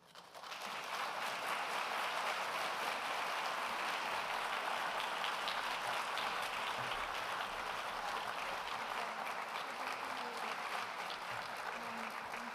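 Audience at a US Senate candidates' debate applauding as the candidates walk onto the stage, a sustained, dense wall of clapping from a large crowd that swells in quickly and holds steady.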